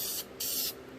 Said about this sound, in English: let's start shooting some paint on this